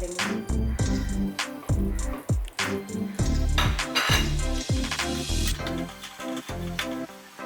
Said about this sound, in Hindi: अब हम इसमें सेवैया भी डाल के हल्का सा शैलो फ्राई कर लेंगे